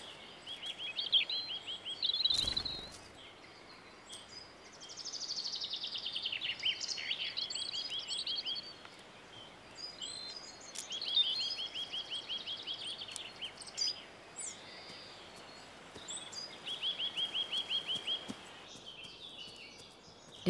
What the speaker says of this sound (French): La clarté renaissante stimule le cerveau des oiseaux et les pousse à chanter.